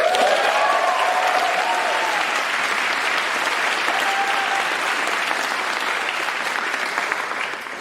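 A school audience at a youth mental health partnership event bursts into sustained applause with some cheering, dense and steady throughout before easing slightly at the end.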